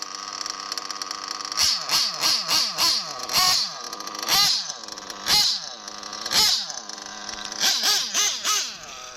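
An O.S. Speed B21AD nitro engine in an RC truggy is revved repeatedly, a buzzing high-pitched whine rising and falling in quick bursts while the idle is being adjusted, close and loud.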